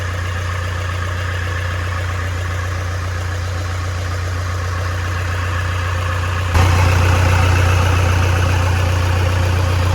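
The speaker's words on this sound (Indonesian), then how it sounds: "Kita panasin dulu untuk mesinnya, kita running dulu." A Toyota Innova diesel engine idles steadily while warming up, a low, even rumble growing slightly louder and fuller near the end.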